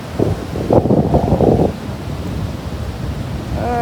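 Wind buffets the microphone in heavy gusts at Zenata beach with surf and waves rumbling behind, loud at first, then easing to a steady softer wash, with a brief high tone at the end.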